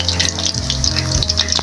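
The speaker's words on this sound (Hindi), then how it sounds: "देखें हमारा चिकन अच्छे से फ्राई हो रहा है" Chicken pakora fries in oil over a low flame, giving a steady close sizzle and crackle with a faint low hum beneath it. No one talks.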